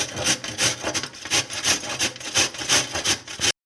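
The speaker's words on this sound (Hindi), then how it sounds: "गाजर को हम आधा काटेंगे और कद्दूकस करेंगे हलवा के लिए" Carrots, cut in half, grated for carrot halwa, giving a rhythmic series of loud rasping strokes, about a dozen evenly paced scrapes, close and alone before stopping abruptly.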